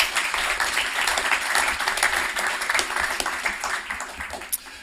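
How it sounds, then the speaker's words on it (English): Audience applause at a media and advertising panel event, a busy, fairly close patter of many hands lasting several seconds and tapering off toward the end. "a lot of applause."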